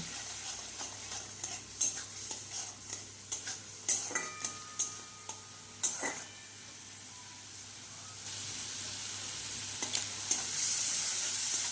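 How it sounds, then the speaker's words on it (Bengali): Spices with Kashmiri chili powder and salt being fried with a splash of water in a pan, a soft sizzle beneath repeated rhythmic spatula scrapes and clinks, then a steadier hiss of steam and frying toward the end, no talking. "সামান্য জল দিয়ে এবার মশলাগুলোকে ভালো করে কষিয়ে নেব"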